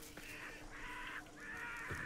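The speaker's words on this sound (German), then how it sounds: "Ja, das sind auch Krähen." Crows in the video game Hunt: Showdown 1896 give three drawn-out, hoarse caws in quick succession, fairly close and clear over a quiet ambient background, with no talk.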